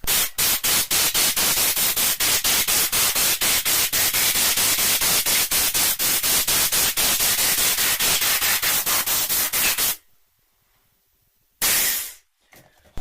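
Compressed air blasts into Honda VFR800Fi motorcycle crankcases in a loud, rapid rattling hiss that runs continuously, cuts out to near silence, then bursts briefly again.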